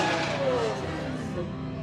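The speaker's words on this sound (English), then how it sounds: "Aventador SV revving." A Lamborghini Aventador SV revs hard at a Croatian seaside supercar gathering, its high engine note sweeping downward in a brief, moderately loud burst, with faint voices around.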